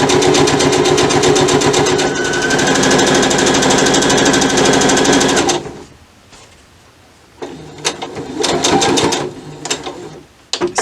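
A sewing machine stitches a ribbon skirt in a loud, rapid, continuous whir for about five seconds, stops, then runs in a few shorter bursts with pauses between.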